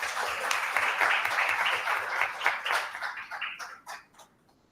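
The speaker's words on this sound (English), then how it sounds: "A round of applause for our closing speaker" An audience at a university undergraduate research awards event applauds, steady clapping that holds for a few seconds and then thins out to a few scattered claps before stopping.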